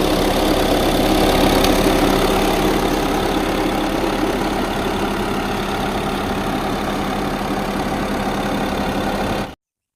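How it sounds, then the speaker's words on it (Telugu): A 2017 Volkswagen Vento automatic diesel car's engine idling, a steady, close, continuous rumble with a faint rattly clatter throughout, then an abrupt cut to silence near the end. "చూసారు కదండి ఇంజిన్ సైడ్ అయితే విధంగా ఉంది"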